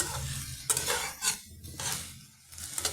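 Fried eggplant is gently stirred in a pan, with soft scraping and clinking of a spoon against the pan in a few quiet, uneven strokes and a faint sizzle underneath.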